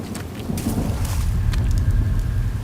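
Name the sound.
thunderstorm in the video game 1916 The Unknown War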